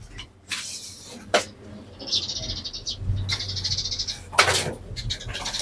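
Breeder pigeons in a loft give soft, low cooing close by, mixed with scattered rustles, brief bright chirps and wing flutters, with no talk.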